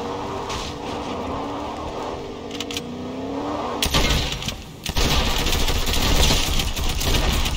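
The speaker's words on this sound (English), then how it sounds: "I hear a car!" A car in the Fortnite video game revs loudly. Bursts of rapid gunfire join in partway through, and the engine and shots grow denser toward the end.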